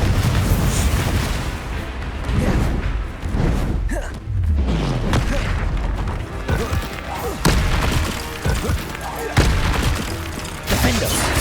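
Confringo fire-blast spells explode repeatedly in Hogwarts Legacy, with booming, crackling blasts over a dense game soundtrack and effects throughout.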